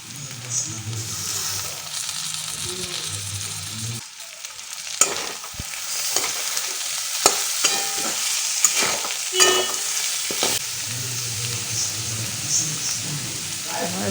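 Vegetables frying in an uncovered pan give a steady, fairly loud sizzle, broken by repeated scraping and clattering strokes as they are stirred, with a quieter stretch partway through.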